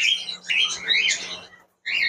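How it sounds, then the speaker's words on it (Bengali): Cockatiel chicks chirping in a bird farm setup, a run of high, thin, close chirps and squeaky calls coming in quick overlapping bursts, then a brief pause before more chirping. "এখানে আমি কিছু বাচ্চার সাউন্ড পাচ্ছি"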